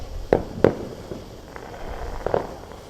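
Neighborhood fireworks on the Fourth of July in Artesia go off as three sharp, distant pops, two close together and a third a moment later, over quiet outdoor background.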